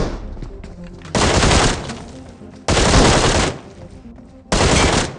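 Bursts of automatic gunfire in a PUBG Mobile fight, three loud sustained volleys separated by quieter gaps of distant shooting and game ambience, no voices.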